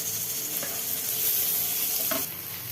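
Onions and tomatoes frying in oil with salt in a home kitchen, a steady close sizzle with a couple of brief stirring scrapes and clinks.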